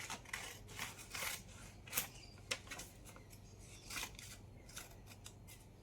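Scissors cut through paper in a quick run of close, crisp snips and rustles at a low level, no voices.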